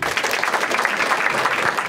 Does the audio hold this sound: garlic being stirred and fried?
no